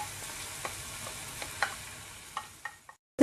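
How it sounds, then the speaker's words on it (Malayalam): Dried prawns fry in hot coconut oil, giving a steady close sizzle with a few sharp stirring clicks before it cuts off abruptly. "ഇനി അടുത്തതായിട്ട് നമുക്ക് ഈ ഉണക്ക ചെമ്മീൻ ഒന്ന് ഫ്രൈ ചെയ്തെടുക്കണം"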